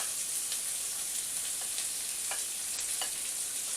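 Pork sausage stir frying in a pan with Brussels sprouts, broccoli, peas and sweet corn, giving a steady close hiss of sizzling fat with occasional scraping stirs and pops, no talking.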